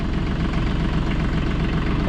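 Tractor engine idling with kids riding along, a steady, close, low rumbling throb that holds even and unbroken throughout.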